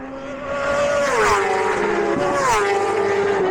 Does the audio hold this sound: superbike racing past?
yes